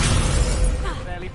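Spell impacts in Hogwarts Legacy on PS5, a dense crackling, shattering burst of magical hits mixed with game noise over a short span, loud and close, with a voice speaking over part of it.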